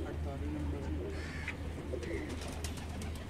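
Soft, low cooing of a Sialkoti pigeon repeats near at hand, partly masked by background noise and a few faint chirps.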